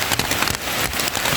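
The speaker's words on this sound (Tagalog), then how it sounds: "kung titigil itong ulan." Steady rain falls on a surface during a hunting trip in wet weather, a dense continuous patter of drops close by with no talking.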